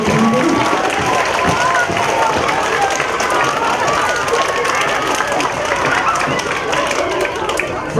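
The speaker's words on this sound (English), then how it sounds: "can we give a big round of applause to some very important people?" An audience at a school spring concert, Walter M. Senkow, claps steadily as a dense, even patter of many hands that holds at one level throughout.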